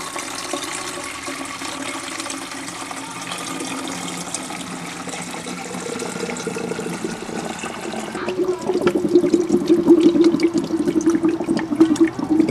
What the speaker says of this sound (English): put some water in here and do a leak check